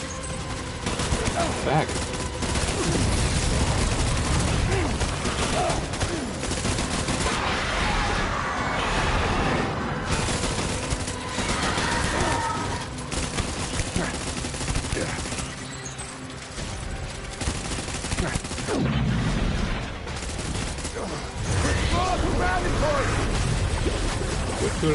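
Gunfire in the Death Stranding video game, dense overlapping volleys and bursts through most of the stretch, with a voice briefly heard.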